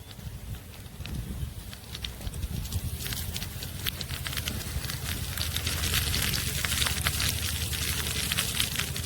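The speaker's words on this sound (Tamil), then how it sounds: "கடுகு பொரிஞ்சிருச்சு." Mustard seeds crackle and splutter in hot oil for a fish kulambu, a fairly faint but busy stream of rapid pops that grows denser and more vigorous as it goes, with no talking.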